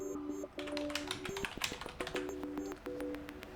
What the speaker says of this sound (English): So if I type something else right now,